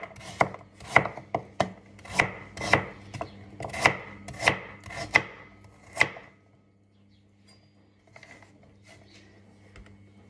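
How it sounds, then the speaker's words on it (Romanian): A knife slicing a carrot into rounds on a cutting board, about ten crisp, evenly spaced chops over six seconds, then quiet with a faint background hum. "Așa, dragilor, îmi tai morcovul felii."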